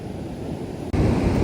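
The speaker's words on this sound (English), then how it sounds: "Love the waves" Ocean waves at a beach, a loud continuous wash of surf with wind noise on the microphone and a brief cut partway through.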